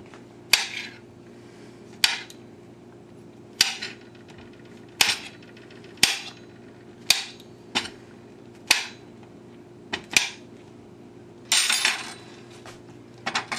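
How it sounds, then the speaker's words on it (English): A small kitchen dicer chops mushrooms for a Lithuanian Christmas Eve appetizer, giving sharp clacking chops at irregular intervals, roughly a dozen over the stretch, close and clear with no talking. "we're going to dice mushrooms in this little machine, and then put them in this little machine and chop them up"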